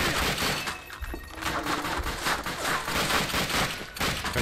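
Rapid bursts of gunfire from the Xbox game Call of Duty Finest Hour, with dense overlapping shots and crackling impacts filling the whole stretch at a steady, loud level.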